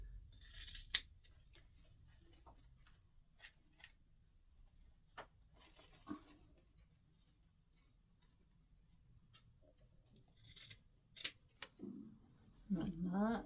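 Scissors cutting ribbon for an artificial Christmas wreath: sparse, quiet snips and light clicks spread out over a hushed background, with a few louder rustles and handling noises near the end.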